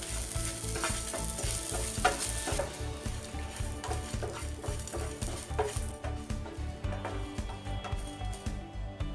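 Lentils and grated coconut dry roasting in a pan give a continuous crackling sizzle, with a spoon repeatedly scraping and stirring close by, and no voices.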